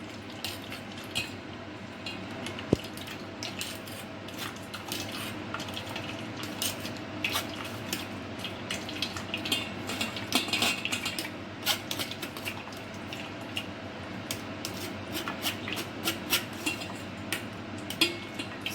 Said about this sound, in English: let's pour it a little bit, and then at the same time I can just stir it well so that the straining happens well and faster